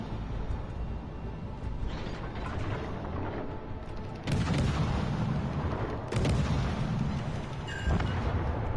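Naval guns boom in a World of Warships Legends battle, with heavy low salvos rolling through steady background rumble and louder volleys landing around the fourth and sixth seconds.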